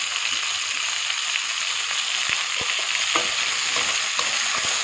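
Tomatoes frying in a pan give a steady, loud sizzle throughout, with a few soft clicks and scrapes from stirring.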